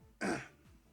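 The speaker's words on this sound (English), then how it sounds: "Sorry if I'm sniffling and coughing a bit." A person with a cold clears their throat once, a short rough burst lasting about a third of a second, close and fairly quiet, with no talk over it.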